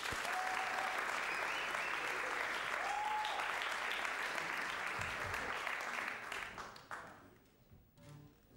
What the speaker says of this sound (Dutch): Geef een hartelijk applaus.